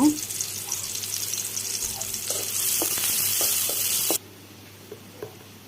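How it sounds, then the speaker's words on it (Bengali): Oil and onions sizzle and crackle loudly in a wok, a steady frying hiss with a few stirring clinks, then the sizzle drops sharply to a quiet low simmer near the end. "এখন আমি কড়াইয়ের মধ্যে তেল দিয়ে দেব আর পেঁয়াজ দিয়ে দেব।"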